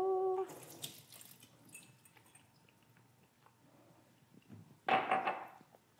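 Pickled French shallots drained of their water in a kitchen: a short splash of pouring liquid at the start, a quiet stretch with faint trickles, then a second louder gush of draining water near the end.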